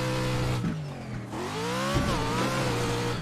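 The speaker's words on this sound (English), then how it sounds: "I'll really rev the crap out of it" Pro4 off-road race truck engine in the video game, revved hard with rising and falling pitch through gear changes, loud and close, with a brief tire squeal.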